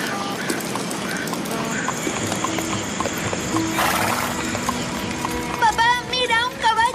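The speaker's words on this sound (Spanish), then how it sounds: "¡Papá, mira, un caballo!" Horse hooves clip-clop steadily on a rural road in Sugarcreek, with a horse's whinny partway through and people's voices rising near the end.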